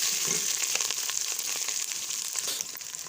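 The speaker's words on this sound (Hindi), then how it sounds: "इसमें डालेंगे अदरक लहसुन का पेस्ट। 2 मिनट के लिए भूनेंगे।" Ginger garlic paste frying in a pan with browned onions, a dense steady sizzle with light crackles and scraping stirs, close and moderately quiet, without speech.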